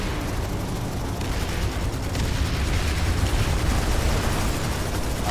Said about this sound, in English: Just massive explosions, tons of res grenades and explosions.